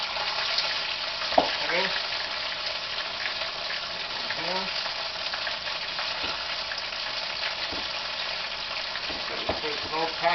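Old-school fried blackberry pies frying in a skillet of hot oil, a steady close sizzle with occasional bubbling bursts and brief clinks as the pies are moved, a voice speaking briefly.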